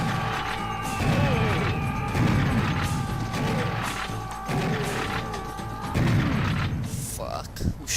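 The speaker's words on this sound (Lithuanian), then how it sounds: "Kas čia šaudo?" Gunfire in the video game Serious Sam Classic, a dense run of shots and mechanical clatter with crashing impacts, loud and continuous, mixed with game sounds and someone talking.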